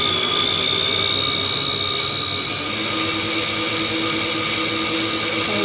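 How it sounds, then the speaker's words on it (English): Small RC car tires spin on steel dyno rollers on a tabletop at about 475 RPM, giving a steady, close, high whine with layered tonal overtones that rises slightly in pitch partway through. "You can hear them tires are whining. Some steel rollers trying to spin faster."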